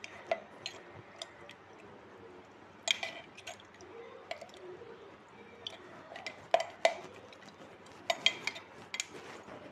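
Salted mango pickle mixed with vinegar is stirred, giving faint, close, irregular squishy wet clicks and taps of a spoon against the container.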